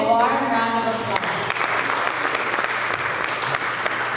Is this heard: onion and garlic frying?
no